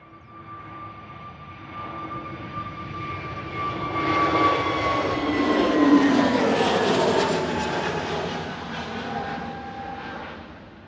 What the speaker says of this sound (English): This is an A320neo GUZHT.